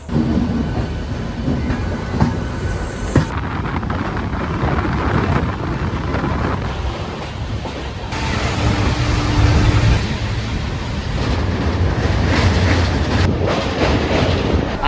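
Inside a passenger train running from Howrah to Barbil, a loud, steady rolling rumble fills the carriage, with rhythmic wheel clatter and occasional sharp clanks that swell and ease as the train moves along.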